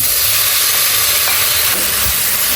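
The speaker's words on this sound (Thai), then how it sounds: "ใส่น้ำมันไปนิดนึงนะคะ แล้วก็นำเครื่องแกงมาผัดค่ะ" Thai curry paste sizzles hard in hot oil in a pan for a northern-style banana stem and pork belly curry, a loud, steady hiss with no talking.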